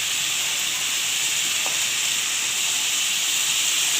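Potatoes fry in a pan for a dry cabbage dish, giving a steady, even sizzle and hiss that holds at one level throughout, close and fairly loud, with no talking.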